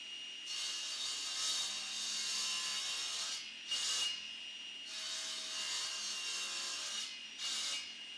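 A hand saw cuts through wooden boards being trimmed to length for a workbench top, steady back-and-forth rasping strokes close by, with two short pauses where the saw is repositioned and the stroke pattern briefly changes.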